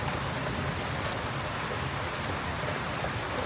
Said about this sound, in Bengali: রহমতের বৃষ্টি